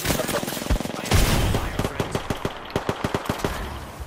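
Rapid gunfire in a video game shootout, a dense burst of automatic fire followed by a string of loud, evenly spaced single shots close up, with excited voices underneath.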